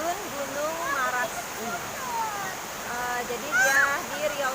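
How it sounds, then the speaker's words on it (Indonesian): The Gunung Maras waterfall in Bangka-Belitung makes a steady, hissing rush of falling water, with a person talking over it throughout. "jangan nggak nyoba untuk mandi air terjun Gunung Maras."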